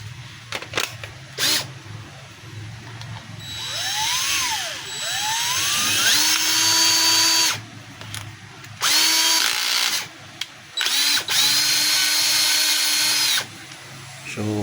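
DeWalt DCD780 cordless hammer drill with a newly replaced transmission, run up in repeated whirring bursts of a few seconds each, with rising and falling motor pitch and short pauses between, close and loud.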